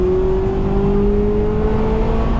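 A Mazda MX-5 Roadster with a dual exhaust hums at a steady, fairly loud rev, its whine rising only slightly in pitch over a low rumbling growl, and nobody speaks.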